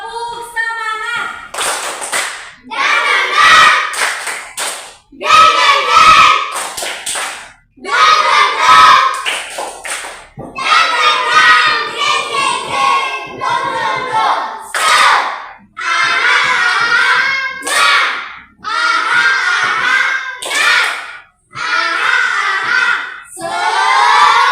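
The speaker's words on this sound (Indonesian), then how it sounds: "Tepuk semangat." A group of people claps the rhythmic 'tepuk semangat' spirit clap during a classroom ice-breaking session, loud patterned bursts of hand claps in repeated phrases with short pauses, voices chanting along between the claps.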